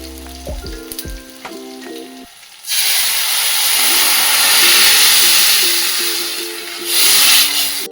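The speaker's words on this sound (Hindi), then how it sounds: "इसको 30 सेकंड पकने के बाद हम इसमें डालेंगे कढ़ी, जो हमने बैटर तैयार किया है उसको डालेंगे।" Kadhi batter poured into a hot pan bursts into a loud, steady sizzle and hiss after some earlier clatter and quiet, continuing close up with a brief surge near the end and no talking.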